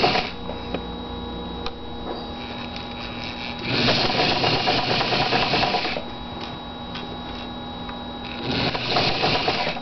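A sewing machine stitches fabric in steady, close, humming runs, with its motor whirring rhythmically in two longer bursts and quieter pauses between them as the work is repositioned.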